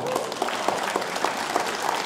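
Applause from a studio audience for a duo at a Polish music chart show, steady clapping throughout at close range.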